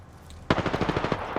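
A sharp burst of rapid automatic gunfire from long range rings out in Apex Legends, a quick run of about a dozen loud, evenly spaced cracks with no talk.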